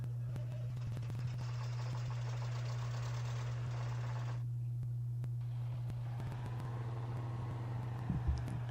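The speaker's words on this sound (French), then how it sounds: "Par contre, toi, Coco, on va écouter un peu le moteur. Bien entendu, celui de la Jeep" A steady, low Jeep engine hum drones throughout in the video game SpinTires, with a constant rumbling tone and some rough mechanical texture, fairly quiet and without talk.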